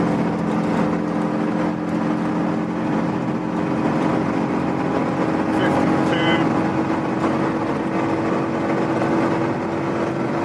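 A Citroën 2CV engine hums steadily at 45 mph in third gear, a constant drone with tonal whine throughout, while someone talks over it.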